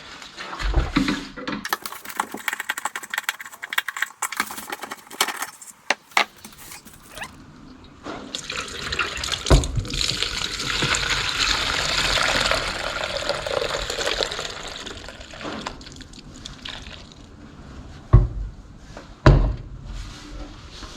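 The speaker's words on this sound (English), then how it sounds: "so that's been soaking for about 2 hours now, so we'll drop the water and see what it looks like." Soapy water draining out of a Yamaha XS650 motorcycle fuel tank, an uneven, close glugging and splashing pour with gurgles and a few knocks, broken by quieter gaps.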